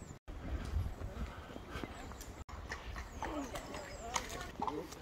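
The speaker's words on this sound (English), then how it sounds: "I even saw a horse and carriage on the hike as well." Horse and carriage passing on a rural road near West Linton, Scotland, hooves clip-clopping at a steady trot amid outdoor ambience and wind.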